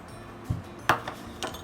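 A utensil clinks and taps against a bowl while semolina cake batter is mixed, a few sparse, fairly faint knocks over a quiet background.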